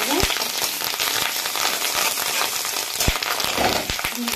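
Fish roe sizzles loudly in a pan of hot oil while being stirred, a dense steady frying hiss broken by a few scraping knocks of the spoon; a voice speaks faintly under the sizzle.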